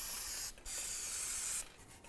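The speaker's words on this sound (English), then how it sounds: "just clean and inspect those holes" Ball joint bolt holes in the aluminum lower control arm of a 2000-2005 Buick LeSabre are cleaned with two close, loud bursts of hissing spray separated by a brief gap.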